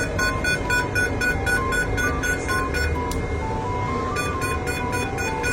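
A diode laser hair removal machine gives repeated electronic beeps pulsing in a steady rhythm over a constant machine hum, with a short melodic tone pattern, close and fairly loud.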